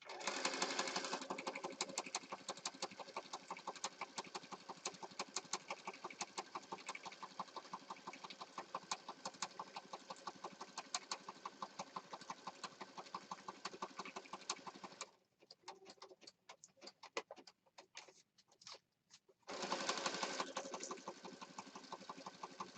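A sewing machine stitches around the edge of a junk journal page, a close, fast rhythmic clatter of needle strokes that pauses briefly into sparse ticks before running again, with no talking.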